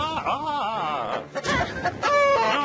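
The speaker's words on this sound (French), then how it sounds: "t'avais une poule géante" A giant cartoon hen clucks in a series of warbling, squawking calls. The calls start close and loud, then come in choppy bursts, and a brighter cackle follows near the end.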